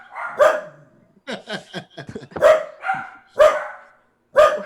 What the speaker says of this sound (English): Where are those hunting dogs? Please, somebody shut those up.